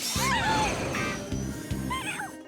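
Small, high-pitched kitten meows in the cartoon PAW Patrol rise and fall over a busy background of music and clatter, with a couple of bursts of mewing.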